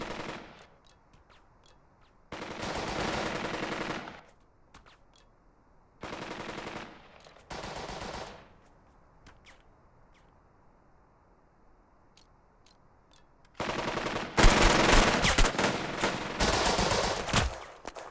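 Machine gun fire in the WW2 game Burden of Command, several loud bursts of rapid automatic shots separated by near-silent gaps, the final burst the longest and loudest.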